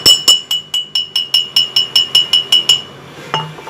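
A glass bottle struck outdoors rings with about fourteen bright, evenly spaced clinks over three seconds, each a sharp tap with a short clear ring, followed by one last softer knock.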